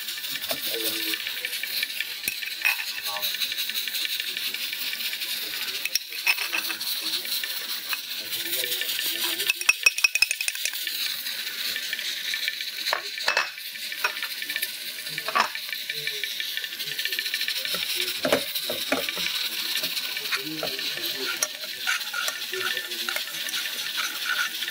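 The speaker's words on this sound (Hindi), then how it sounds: "बहुत हल्के हाथ से आपको इसमें चम्मच चलाना है मक्खन में" Potato pieces stirred gently with a spoon in sizzling butter, soft continuous frying hiss punctuated by scattered light metallic scrapes and clinks, steady and close over a long stretch.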